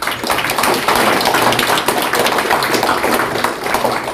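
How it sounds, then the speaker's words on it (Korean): An audience at a round-table discussion applauds the four panelists with dense, steady clapping that fills the room throughout. "우리 네 분에게 큰 박수 보내드리고"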